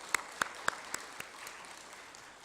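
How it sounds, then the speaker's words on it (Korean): Applause at a Thanksgiving Sunday church service: about five or six sharp, distinct claps in a slow rhythm, then fading to scattered faint claps in a quiet room. "영광의 박수를 올려드리겠습니다"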